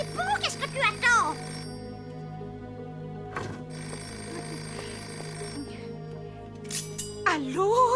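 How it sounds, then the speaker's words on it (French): An old-style telephone bell rings in a French cartoon, a repeating trill with regular pauses, while cartoon voices speak at the start and end. "Oh, le téléphone."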